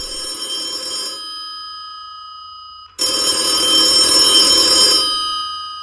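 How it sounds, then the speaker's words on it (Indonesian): An old telephone rings loudly in a nighttime road-driving horror video game: two long, steady electronic ring bursts separated by a brief pause, with no talk over them. "Telepon berbunyi."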